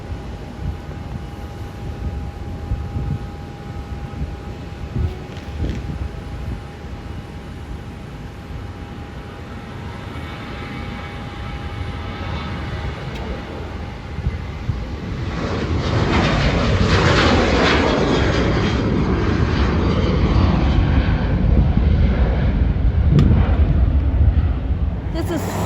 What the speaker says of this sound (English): Avelo Airlines flight 101, 737-700 now departing to Santa Rosa.